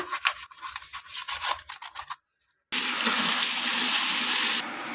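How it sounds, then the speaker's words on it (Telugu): A brush scrubbing the drum filter of an IFB washing machine, quick rhythmic bristle strokes up close, then a short pause before a steady rush of running water, with no voices. "ఇదంతా మొత్తం బ్రష్ తోటి ఇలా అన్నామంటే మొత్తం నీట్గా వచ్చేసిద్ది"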